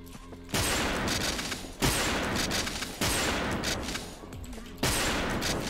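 Sniper rifle shots in the online shooter WolfTeam, four loud booming reports spaced roughly a second apart, each with a long rolling tail and mechanical clatter in between.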